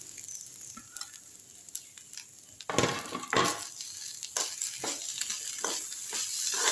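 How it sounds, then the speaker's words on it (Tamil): Ginger and coriander sautéing in a pan for a spicy chutney, a steady hissing sizzle that swells after a few seconds, with occasional clinks of a spoon stirring against the pan. "ஒரு 2 நிமிஷம் வதக்கினா போதும்"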